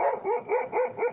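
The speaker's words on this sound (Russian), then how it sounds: "Вот собаки вон у него." Dogs barking in a rapid, regular series of about five close, loud barks, each short and rising then falling, with no talk over them.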